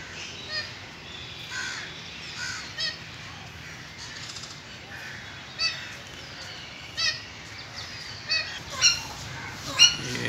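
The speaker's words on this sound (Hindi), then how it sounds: "ये तोते की बहुत ही प्यारी आवाज़।" Parrots call in an outdoor garden nursery, repeated harsh squawks scattered across steady ambient noise, coming closer together and louder toward the end.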